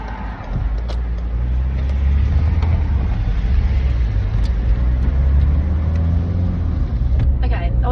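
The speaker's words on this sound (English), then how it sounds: "I'm stuck in traffic immediately." A car's engine rumbles steadily in daytime road traffic, with low continuous road noise and a few faint clicks throughout.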